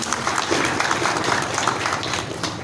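Audience applause fills the opening of a national working meeting of a civic organization in Indonesia, a dense, sustained patter of many hands clapping at once, loud and steady throughout.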